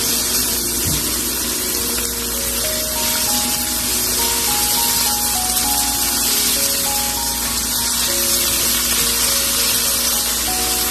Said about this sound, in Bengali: তারপর আমি একটু ব্রোকলি আর মটরশুঁটি, ফুলকপি, এগুলি সবগুলো একত্রে ঢেলে দিব। এগুলোকে আমি একটু ভালো মতো একটু ভেজে নিব।